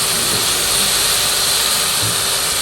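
Tomatoes tipped into hot fried masala in a pan set off a loud, steady, broadband hiss and sizzle that holds evenly throughout, close up with no talk.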